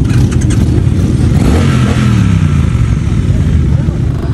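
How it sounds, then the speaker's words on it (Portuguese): Several motorcycles, among them a Triumph Truxton, rumble and rev loudly and up close at a motorcycle meet, with engine noise dense throughout and voices faintly mixed in. "Só tem moto braba aqui."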